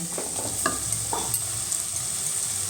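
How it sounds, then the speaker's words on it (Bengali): Mushrooms stirred and fried in a cooked masala, with a steady close sizzle and a few scraping stirs of a spatula against the pan. "মাশরুমটা দিয়ে দিলাম। ভালো করে নেড়ে চেড়ে নিচ্ছি।"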